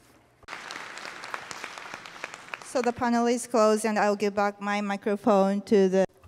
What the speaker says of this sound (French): je vous propose d'applaudir une dernière fois l'ensemble des membres du panel